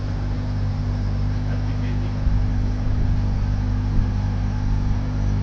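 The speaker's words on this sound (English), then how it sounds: "I'm trying to rev it. I'm revving it." A Honda Prelude's engine idles and is revved with a louder exhaust, giving a steady low droning rumble that swells slightly partway through, heard close and alone.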